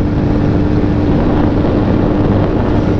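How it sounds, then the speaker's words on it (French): Royal Enfield Scram 411 single-cylinder two-valve engine at speed on a motorway, a loud steady drone buried under heavy wind rush with no break. "c'est un bruit de moteur monocylindre, 2 soupapes, et ça fait pas mal de bruit"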